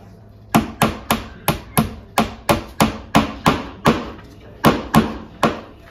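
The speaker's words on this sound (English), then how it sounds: "hammer it in" A hammer drives a screw into a wall to hang a pot rack for copper pots, about thirteen sharp, close, evenly spaced strikes with no talking.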